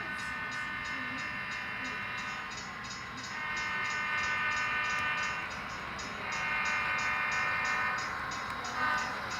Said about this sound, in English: grade crossing bells.